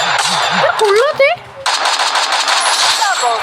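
Automatic machine gun fire in the Free Fire battle royale game, loud rapid bursts through most of the stretch with a brief drop in the middle, mixed with game effects and some voice.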